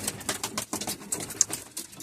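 Pigeons cooing among a breeder's young birds, soft repeated coos and rustling close by, with no talk.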